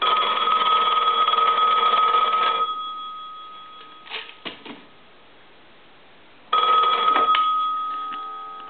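A Western Electric 191G three-slot payphone's bell rings loudly in a sustained metallic burst, falls silent with a few faint clicks, then rings again close by.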